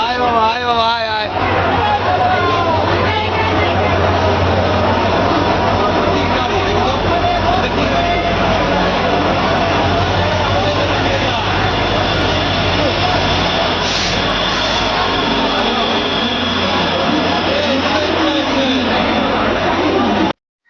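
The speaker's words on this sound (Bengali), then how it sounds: "তাই এই ট্রেন ঢুকছে, দেখুন।" A train pulls into a packed station platform during the Kumbh Mela 2025, its loud continuous rumble and roar running throughout beneath dense crowd babble and a nearby voice.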